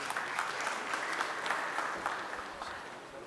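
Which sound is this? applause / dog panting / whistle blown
applause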